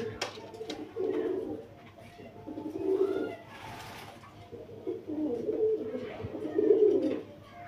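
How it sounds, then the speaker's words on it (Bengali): An Indian Shahjahanpuri male pigeon coos close by in several low, throaty bursts spaced a second or two apart, with soft background noise between them. "এখানে আছে একটা ইন্ডিয়ান শাহজাহানপুরে নর কবুতর"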